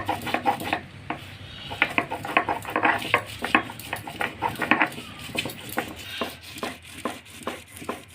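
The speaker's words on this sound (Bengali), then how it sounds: "এইভাবে গ্যাঁদাল পাতাটাকে আমি বেটে নিচ্ছি" Gandal leaves are ground into a paste by hand, a quick series of close knocking, scraping strokes against a hard surface, fairly quiet and irregular in rhythm with no talking.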